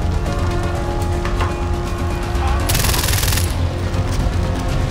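Gunfire in the video game Far Cry 4: a loud, dense burst of rapid shots over a constant rumbling game background, with scattered single cracks before it.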